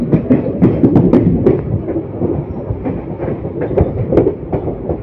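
Simhadri Express rolling along the rails between Anaparthi and Dwarapudi, a steady loud rumble of wheels with repeated clickety-clack joint impacts throughout, no voices.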